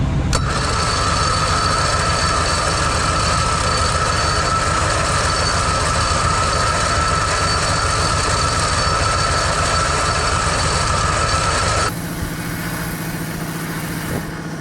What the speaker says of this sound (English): now we'll spool in our new Yankum rope on our front winch under tension.